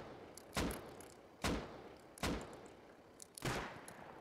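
Four loud, evenly spaced gunshots in the video game Rust ring out about a second apart, each with a short decay, over a quiet background.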